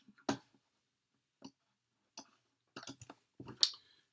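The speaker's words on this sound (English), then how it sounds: "I'm going to right click on that, go to Adobe Illustrator" Several sharp, dry clicks of a computer mouse, one loud near the start and the others in small scattered bursts, close and isolated with quiet between them.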